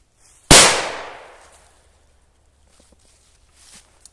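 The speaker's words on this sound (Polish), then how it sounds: "odpalamy jeszcze na luzie i sobie, pewnie sobie podsumujemy te petardki" A single Korsarz K0204-2 Hestia firecracker goes off with one loud, sharp blast and a long decaying rumble, followed by a few faint clicks and rustles nearby.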